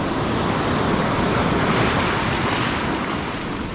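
Sea surf churns and breaks on a UK shore at night, a loud, continuous roar of swell and wind with no voices.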